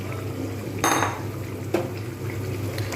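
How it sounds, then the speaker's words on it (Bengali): Fried paneer pieces tumble into a pot of boiling sweet-sour curry with a soft splashing burst, followed by a sharper clink of metal against the pot over a low bubbling background, with no talking. "ভেজে রাখা পনিরগুলো দিয়ে দেবো"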